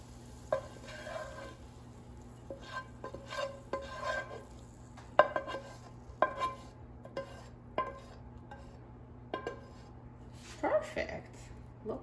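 Cooked carrots scraped and lifted from a frying pan onto a plate, with scattered clinks and scrapes of utensil on pan at close range over a steady low hum.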